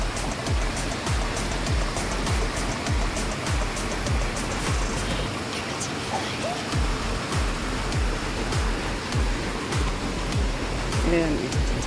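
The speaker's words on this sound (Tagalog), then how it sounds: "Yung falls niya." Steady broadband roar of a waterfall pouring continuously throughout, loud and close, with faint scattered background sounds but no clear talk.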